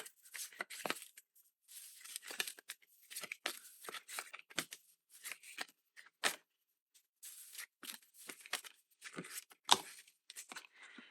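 Self-care oracle cards are shuffled and pulled, a quiet, close run of papery riffles and sliding card slaps in irregular bursts with short pauses between.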